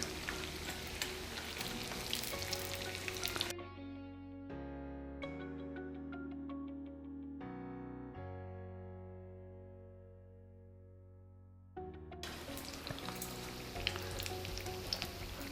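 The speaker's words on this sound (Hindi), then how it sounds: "इसी तरह से सारे पॉकेट्स को भी फ्राई कर लेंगे।" Bread pizza pockets shallow-frying in a pan: a loud, even sizzle fills the opening seconds, gives way to a melodic musical interlude, then returns just as strongly at the end.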